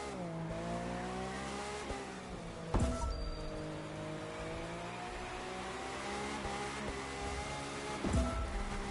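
A racing car engine in the video game The Crew 2 screams at high revs, constantly redlining, holding a sustained whining tone with a couple of brief thumps along the way.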